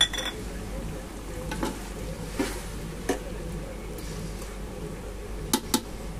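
Chicken dum biryani cooks in a pot with a soft, steady sizzle. A few light clinks and scrapes of a utensil against the pot come through at scattered moments.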